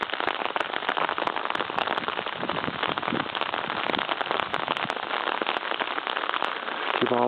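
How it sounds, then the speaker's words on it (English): Steady rain patters loudly and continuously on a surface nearby, a dense crackling hiss with scattered sharper drops, and no voices. "Stupid rain."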